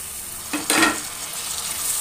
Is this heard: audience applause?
no